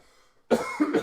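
Two or three sharp coughs land close on a microphone after a near-silent moment, loud and dry with a short gap between them.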